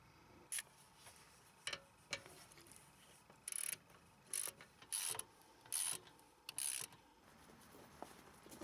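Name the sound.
ratchet tightening bolts with a 13mm socket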